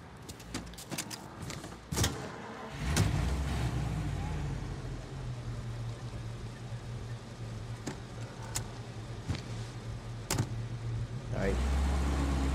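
Steady engine rumble of a car driving in Mafia Definitive Edition, with a few sharp clicks and knocks over the continuous drone; no one speaks.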